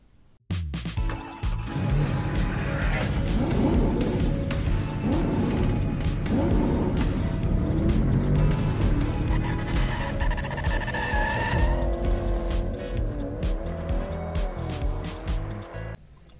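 Car engine revving up as the vehicle is put into gear and accelerates during a first driving lesson, a steady loud drone with rising pitch sweeps and no talk over it.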